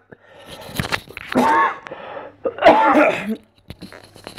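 Two harsh, close coughs separated by a short pause, with faint breathy sounds around them.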